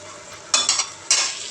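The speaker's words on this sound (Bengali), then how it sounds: "সব কিছু দিয়ে আবারও মশলাটা কষিয়ে নিতে হবে।" Ground turmeric, cumin, Kashmiri chili and coriander powders stirred and fried in a pan for Bengali chicken curry, with two loud scraping stirs over a steady low sizzle, close up and with no talking.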